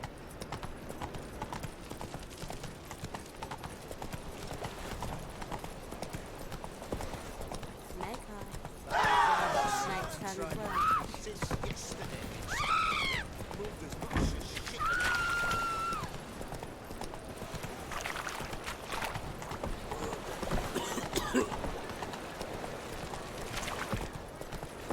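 Horse hooves clip-clop steadily throughout a game scene, a continuous trotting rhythm with voices talking over it partway through.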